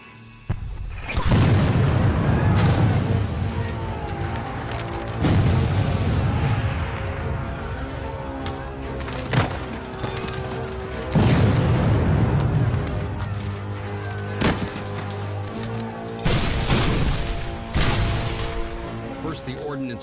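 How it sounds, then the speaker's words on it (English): Civil War artillery cannons fire in a barrage, a series of heavy booms every few seconds, each with a long rumbling decay and sharper cracks between them. "Joe Davis and his men are marching into a barrage of artillery hell."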